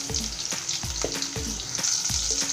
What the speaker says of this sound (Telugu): దీంట్లోనే కొన్ని ఎండుమిర్చీలు చక్కగా వేగిపోయాయి కదా. ఇప్పుడు దీంట్లో కొన్ని పచ్చిమిర్చి, కొంచెం ఇంగువ యాడ్ చేసుకుందాం.